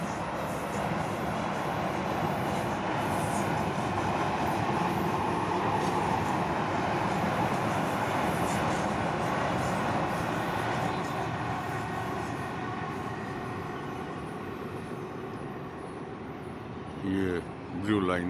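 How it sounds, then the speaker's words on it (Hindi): A Delhi Blue Line metro train heading toward Dwarka rumbles past near the Yamuna area, a broad steady roar of wheels and carriages that fades slightly toward the end. "ये ब्लू लाइन मेट्रो जो यहाँ से द्वारका की तरफ जा रही है।"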